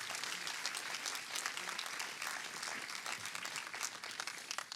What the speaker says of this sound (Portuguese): Louve a Jesus com as suas palmas.